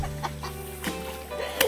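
A hen clucks a few times in short, separate calls, with quiet gaps and a low background hum between them, close and moderately loud.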